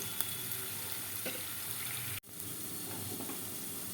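Sliced onions and garlic fry in hot oil, making a continuous quiet sizzle broken once by a brief dropout, with a few faint clicks and no voices.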